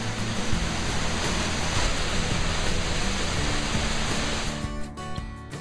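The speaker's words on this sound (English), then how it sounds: "rounded off the morning with a little jaunt to a local natural attraction, a waterfall." Steady, roaring rush of a waterfall at a natural attraction near Dalat, Vietnam, loud and broadband like continuous falling water, thinning slightly near the end.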